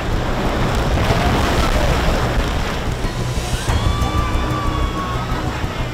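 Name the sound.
river rapids while whitewater rafting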